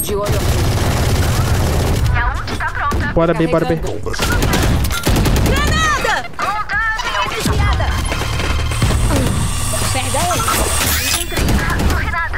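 Bursts of Valorant gunfire and booms crackle over excited Portuguese-speaking players calling out to each other, with rapid shots in clusters throughout.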